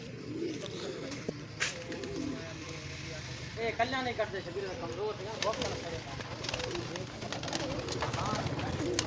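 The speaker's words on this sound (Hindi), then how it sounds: "बहुत खूबसूरत कबूतर हैं" Pigeons coo in soft, rolling bursts among scattered flutters and background noise, with people talking nearby.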